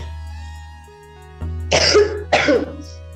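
A woman teaching a peer-teaching lesson on sunnah prayer coughs twice in quick succession, close and fairly loud, over a steady electrical hum in a quiet room.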